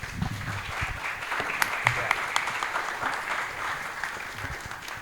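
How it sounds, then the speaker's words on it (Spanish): An audience claps in welcome, a steady wash of applause with a few sharp individual claps standing out, fairly distant and moderately loud. "Le damos un aplauso de bienvenida, Jorge."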